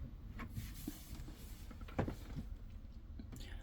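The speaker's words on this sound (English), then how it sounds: "we've got a wardrobe down here, which I can open." Wardrobe door inside a Chausson V594L camper van, opened with faint, soft clunks and a light knock, quiet against a steady low background hum.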